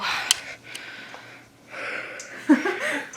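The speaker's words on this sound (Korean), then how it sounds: "그녀의 거친 숨소리" Heavy, ragged breaths come in and out up close, with a short gasp near the end and no speech.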